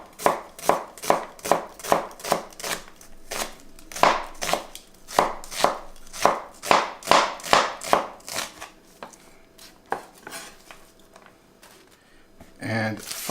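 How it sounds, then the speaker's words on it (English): A knife chops an onion lengthwise on a cutting board in quick, evenly spaced strokes, about twenty crisp hits close up with a short pause near the end, while a voice talks quietly underneath. "for the onion here, we're going to want to cut it the long way,"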